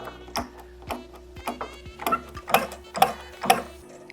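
A press pushes a shaft back into the bearings of a Vemag HP-E series infeed scroll pinion drive motor, making a steady series of clicking, ratcheting mechanical ticks that grow louder toward the end, with no talk.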